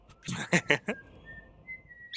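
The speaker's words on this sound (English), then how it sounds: "I like when he tweets the Simpsons theme." A pet bird whistles a short tune, the Simpsons theme, as a quick run of separate notes followed by one long, thin, sustained tone, fairly close and clear in a quiet room.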